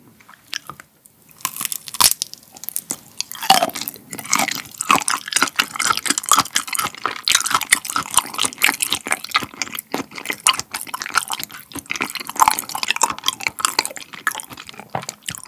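Raw shrimp eaten up close, with wet biting and crunching and steady moist chewing that repeats densely and loudly for about fifteen seconds, with no talking.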